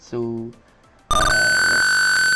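A pet feeder's alarm buzzer, part of a feeder and water level system, suddenly blares a loud, steady electronic tone that holds to the end after a brief spoken word.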